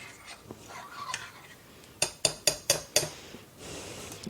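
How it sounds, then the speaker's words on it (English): A spoon clinks against a bowl while beef sauce is stirred, quiet scraping at first, then five sharp, evenly spaced metallic taps close by, followed by softer stirring. "Then stir that up."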